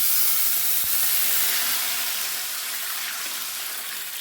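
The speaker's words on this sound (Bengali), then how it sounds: "এবার আমি একটু জল ঢেলে দেব।" Water poured into a hot pan of fried black cumin seeds bursts into a loud, broad steaming hiss that gradually settles and softens over a few seconds, with no voices.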